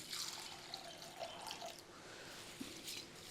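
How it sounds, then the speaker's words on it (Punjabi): Lukewarm water is poured into dal soaked with vinegar and salt, a faint, soft trickle and splash of liquid filling a vessel, close and without talk. "ਹੁਣ ਪਾਵਾਂਗੇ ਕੋਸਾ ਪਾਣੀ"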